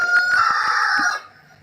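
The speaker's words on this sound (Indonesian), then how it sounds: "Ayam yang jawab." A rooster crows once, close and loud, a sustained strained call lasting about a second before cutting off into quiet.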